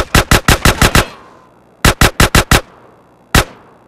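Gunfire in Grand Theft Auto San Andreas: a rapid burst of about seven loud shots, a pause, a second burst of five, then one final shot, each sharp and close with short decaying tails.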